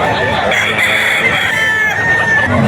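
Rooster crowing at a gamefowl seller's yard in Bocaue, Bulacan, a drawn-out crow rising over clucking birds and low chatter nearby, loud and close throughout.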